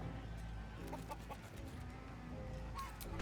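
Chickens cluck in Baldur's Gate 3, soft scattered clucks and short calls over a low steady ambient game soundscape, with no talking.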